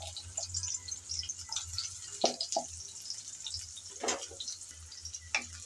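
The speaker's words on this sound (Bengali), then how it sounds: "গরম তেলে আমি পেঁয়াজ কুচি দিয়ে দিলাম।" Chopped onion, cut into large pieces, dropped into hot oil in a pan, giving a steady soft sizzle with scattered pops and drips close by.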